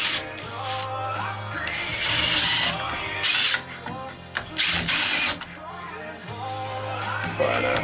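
A power drill drives drywall screws into wood near a bench vise, whirring in several short bursts and pauses at close range, with clanks of handling between runs.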